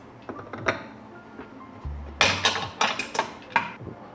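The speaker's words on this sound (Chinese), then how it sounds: "我会把它倒到磨豆机里边来研磨。" Coffee beans for an espresso-style brew are tipped into a coffee grinder, giving a quick cluster of hard rattling clicks and clatter near the microphone, with a few light taps and knocks before and after.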